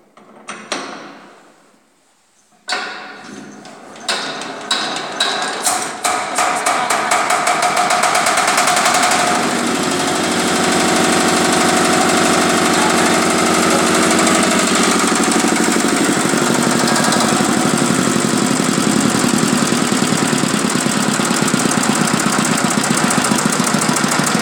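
A diesel engine is started by hand crank: a few slow turning strokes and a pause, then it catches and runs loud and steady with a rapid knocking idle for the rest of the time, close by and alone.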